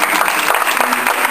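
A group clapping during a taquara demonstration, brisk and loud close-up applause with many overlapping claps filling the whole short stretch.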